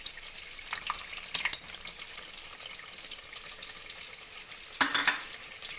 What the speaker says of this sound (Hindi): और इसे फिर से अच्छे से भूनेंगे।